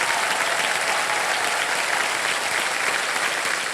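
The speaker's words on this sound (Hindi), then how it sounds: "तालियां बज जाए इनके लिए" A studio audience on a televised quiz show applauds a contestant who won 7.5 lakh rupees, with dense, loud, sustained clapping from a large crowd that holds steady throughout.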